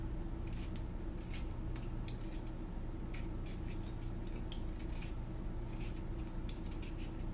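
A vegetable for juicing, already trimmed at both ends, is peeled around its body like an apple, giving repeated close scraping and rasping strokes over a constant low background hum.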